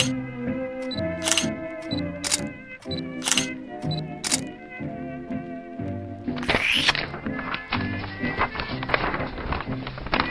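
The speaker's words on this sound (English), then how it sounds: "His shutter flutters anew until he runs out of film." Film camera shutter clicking several times in quick bursts, with sharp bright snaps over a steady musical backing in an animated short.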